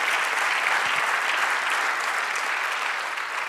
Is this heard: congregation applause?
yes